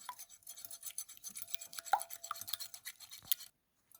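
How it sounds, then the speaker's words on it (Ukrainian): An egg is beaten with a whisk in a deep bowl, giving quick, soft, rhythmic tapping and scraping strokes close by that stop abruptly near the end. "Підбиваю його вінчиком."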